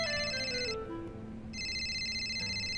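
An electronic phone ringtone trills in repeated bursts with a short pause between, over a low background hum.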